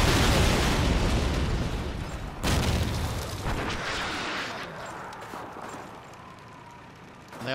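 A grenade blast in Call of Duty 2 hits as a loud, heavy boom with a long rolling rumble, then a second burst follows and fades slowly into a distant decay.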